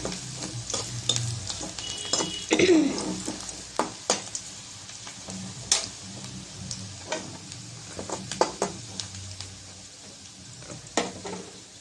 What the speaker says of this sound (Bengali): পেঁয়াজটি একটু হালকা করে বেজে নিয়েছি